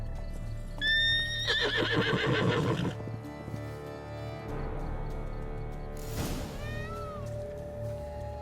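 Horse in The Witcher 3 whinnies loudly with a wavering neigh, followed by clip-clopping hooves and a second shorter whinny, set against steady game ambience and low music.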